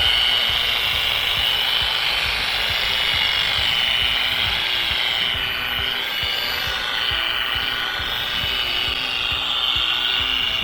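A polishing machine run over an aircraft exhaust with light pressure gives a steady, loud, high-pitched whir and grinding hiss that holds without a break throughout.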